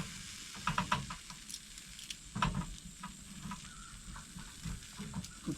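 Butter melts and sizzles in a hot pan on a Louisiana fishing dock, a soft continuous frying hiss broken by small pops and crackles, faint and close with no talking.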